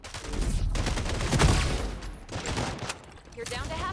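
Rapid bursts of gunfire from freeze bullets in the FragPunk shooter game crackle in dense volleys, mixed with game effects and an excited commentator talking over the action.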